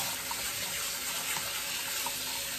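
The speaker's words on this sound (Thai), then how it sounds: "นิดจะใช้น้ำล้างเมล็ดสาคูแล้วก็รอไว้ประมาณ 10-15 นาทีแบบนี้เลย" Warm water runs steadily while sago pearls are rinsed, a continuous close hiss like a tap filling a sink, with no talking.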